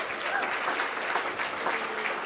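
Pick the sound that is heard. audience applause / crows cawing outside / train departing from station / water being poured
audience applause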